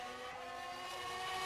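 An F1 race car passes at Imola in a racing simulator, its high engine note a steady faint whine that gradually builds, heard alone with no talk.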